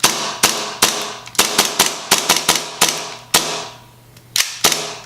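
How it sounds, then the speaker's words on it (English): An airsoft pistol, orange tip removed, dry-fired in a close, loud run of about a dozen sharp gas-powered cracks with uneven gaps and no one talking. "So I'm just gonna shoot it like kind of blank."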